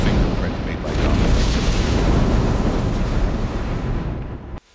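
A thunderstorm sound effect under horror story narration: a loud, steady roaring rumble of storm noise and rain that holds for several seconds, then cuts off abruptly.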